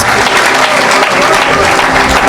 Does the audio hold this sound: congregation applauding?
yes